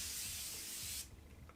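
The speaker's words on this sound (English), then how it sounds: "Just let me put a little bit of a setting spray." Setting spray misted onto a face in one steady, close hiss lasting about a second, then cutting off to quiet room tone.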